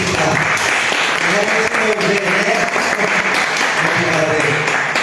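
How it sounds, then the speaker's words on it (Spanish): Strong, sustained applause from an audience at a social forum session on communication rights, steady dense clapping filling the whole stretch with some voices mixed in. "Vamos dar um forte aplauso novamente."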